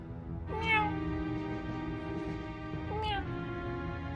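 A woman imitates a cat with two drawn-out meows, the first louder, over a steady background of game music or hum.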